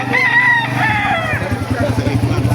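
A rooster crows loudly at a chicken market in Baliuag, Bulacan, one long harmonic call rising and breaking within the first second and a half, with market chatter and a low rumbling engine continuing underneath.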